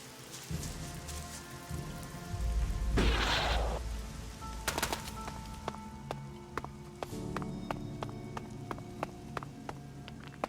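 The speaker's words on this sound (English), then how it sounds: "Oh, lovely rain." Steady rain patters on a surface with scattered drips in the video game ELEX, a brief louder gust of noise partway through, and soft clopping in the background.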